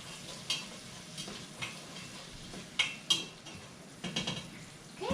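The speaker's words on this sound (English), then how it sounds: "I'm going to give that a quick stir" Corn and zucchini sweating in a soup pot are stirred with a utensil, giving a handful of scattered scrapes and taps against the pot over a soft, steady sizzle, close and moderately quiet, with no talking.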